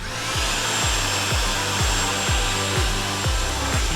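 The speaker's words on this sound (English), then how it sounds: "I'm gonna grab a vacuum real quick and vacuum that up." Vacuum cleaner sucking up broken glass inside a wrecked 2016 Porsche Cayman, a constant motor whine with a rhythmic series of low thumping strokes about twice a second as the nozzle works over the interior.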